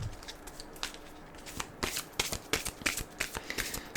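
Tarot cards being shuffled and handled, a quick run of close, crisp riffling and slapping bursts that grows busier in the second half, with no voices.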